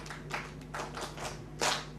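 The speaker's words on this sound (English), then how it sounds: "Can we clap in an organized way?" An audience at a Ugandan vocational qualification results ceremony claps in unison, several distinct synchronized bursts in a steady rhythm, fairly faint and distant, ending with one louder clap, over a low hum.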